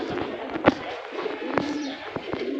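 Wet female racer pigeon with a club leg tag, a few soft low coos and short bursts near at hand over faint background noise.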